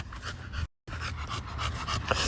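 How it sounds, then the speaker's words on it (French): A dog pants rapidly and rhythmically close up, a quick steady huffing with a brief cut of silence partway through. "Ah, c'est un chien."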